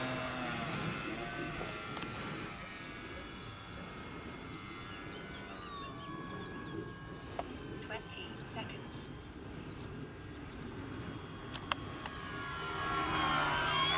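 A Durafly Gloster Gladiator Mk1 RC biplane fighter, an 1100 mm EPO foam model on 4S electric power, makes a flying pass. A faint motor whine rises and falls under people talking, with wind noise swelling near the end.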